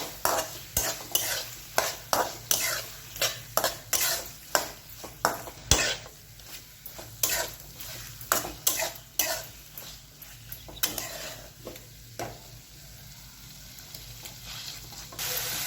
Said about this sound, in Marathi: आता बटाटा टाकल्यानंतर पण छान असं परतून घ्यायचंय, सगळं एकजीव करून घ्यायचंय।